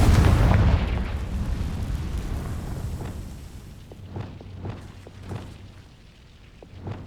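Explosive spell blasts from Bombarda and Confringo in the Hogwarts Legacy video game, a big booming blast that rumbles and decays, followed by several smaller popping bursts and impacts.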